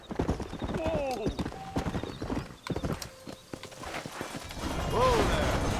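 Horse hooves clip-clop at a steady trot in the Western game Red Dead Redemption, with a couple of neighs mixed in. A rider urges the horse on over the hoofbeats.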